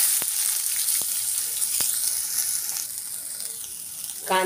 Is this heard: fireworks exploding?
no